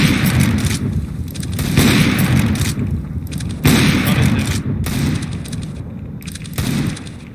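Flashbang and other gunfire-like bursts in Counter-Strike on the Train map, four loud booming blasts spaced a couple of seconds apart over a constant noisy game background.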